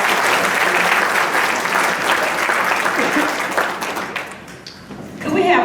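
Audience applause at a senior lobby day afternoon session in the Colorado Capitol, steady dense clapping from a sizable crowd that thins and fades toward the end before a brief swell.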